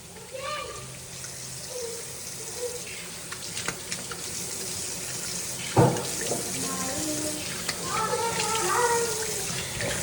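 Cold tap water runs steadily into a sink while someone splashes and washes their face, with a sharp splash near the middle and voices talking over the flow at a household basin.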